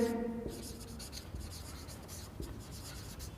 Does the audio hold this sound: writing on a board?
yes